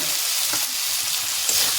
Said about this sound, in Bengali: তেল ছেড়ে গেলে আলু আর গেঁড়িটা দিয়ে দেবো ওর মধ্যে